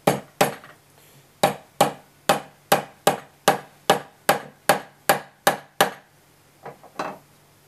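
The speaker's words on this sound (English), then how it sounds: "and I take my hammer" A hammer taps a guitar fret into a slot filled with Titebond aliphatic resin glue, giving about a dozen sharp, evenly spaced close knocks followed by a few lighter taps on the ends.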